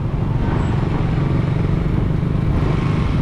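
Motorcycle engine running steadily up close: a loud, continuous rumble that holds an even pitch, with no talking over it.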